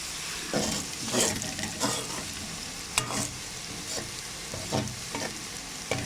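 Rice browning in a frying pan for matar pulao gives a continuous soft sizzle, broken by repeated scraping stirs and spoon taps at irregular intervals, close and without speech.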